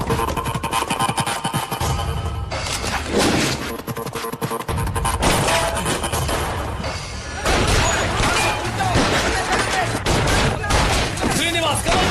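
Rapid volleys of gunfire crack through a Hindi-language action movie shootout between police and gangsters at a building, loud and dense across the whole stretch, with dramatic score and raised voices mixed in.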